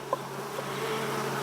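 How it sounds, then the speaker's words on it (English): A steady buzz of many bees in a re-queened hive that was formerly Africanized, a continuous close drone with a brief soft knock near the start. "looking down in the bottom, I'm seeing a whole lot of bees"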